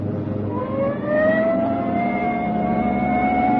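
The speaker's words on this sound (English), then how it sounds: "Hit the siren." Police car siren from an old radio crime drama, a rising wail that climbs and holds steady over a rumbling engine, loud and close with no talk.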